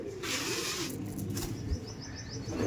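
Andhra pigeons, an aggressive breeding pair kept in a loft, coo and chirp in soft repeated calls over a steady background hum. A brief flutter or bump is heard partway through, and no one speaks.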